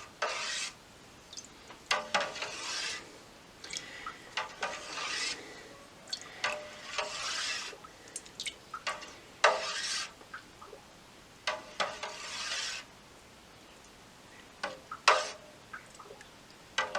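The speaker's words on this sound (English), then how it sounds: "I'm going to stir that in." Cheddar cheese curds being stirred in a pot, a series of soft scraping and swishing strokes in an irregular rhythm, close and fairly quiet with no talk.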